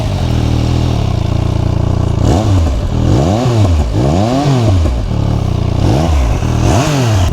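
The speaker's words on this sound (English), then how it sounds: "Really nice sounding bike." A 2023 Triumph Speed Triple RS 1200 motorcycle engine revs loudly and close by, its pitch swooping up and down in repeated throttle blips over a steady idle.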